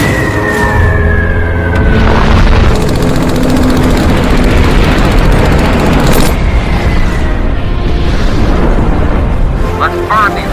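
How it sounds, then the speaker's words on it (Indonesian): Warplane bombing in a war film: a roaring aircraft whine followed by heavy, rumbling explosions and dense battle noise throughout, loud and close, with voices shouting over it. "pesawat itu lebih dulu menjatuhkan bom"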